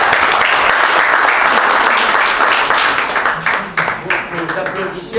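An audience applauding at the end of a talk, dense loud clapping that thins and fades toward the end as a voice begins speaking over it.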